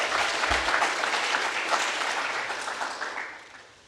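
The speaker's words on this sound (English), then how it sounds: "just want to give them another round of applause" A conference audience claps in a steady, dense round of applause, moderately loud and close, tapering off toward the end.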